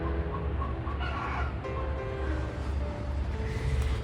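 Backyard chickens cluck and murmur close by in a garden among papaya trees and berry bushes, a steady run of soft clucks and calls over a low outdoor background.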